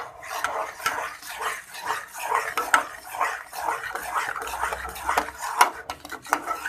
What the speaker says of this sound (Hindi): हिलाते जाना है, इसमें गुठलियाँ ना बन जाए।